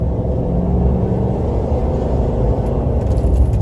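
A 2018 GMC Denali 2500HD pickup truck engine pulls hard under acceleration, a steady low rumble and whir heard from inside the cab, loud and continuous with no talking.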